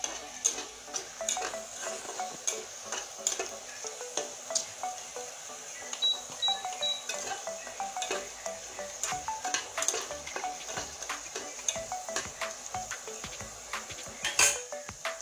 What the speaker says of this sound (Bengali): এখন রসুনগুলো আমি লাল করে ভেজেছি